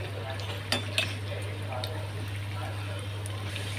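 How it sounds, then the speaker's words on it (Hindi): Chicken samosas frying in hot oil, a soft continuous bubbling sizzle with a few light clinks of a utensil against the pan, close by under a steady low hum. "अब हम समोसा फ्राई करेंगे।"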